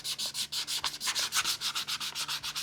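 Plastic being scuffed with 220 grit sandpaper, brisk back-and-forth rasping strokes in a quick even rhythm, close and fairly loud, about a dozen strokes with no voices.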